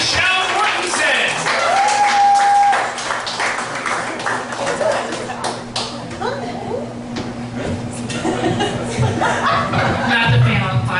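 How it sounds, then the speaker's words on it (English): An audience at Foxwoods applauds as a comedian is introduced: a burst of clapping mixed with chuckles and laughter, and a voice speaking over it. "Get clapping before I even announce her name."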